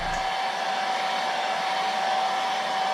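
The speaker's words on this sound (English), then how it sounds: "We're just going to hit that with our hair dryer." A hair dryer on low speed blows in a steady, even whoosh with a constant whine, drying airbrushed paint on a jerkbait fishing lure, running continuously without change in speed or loudness.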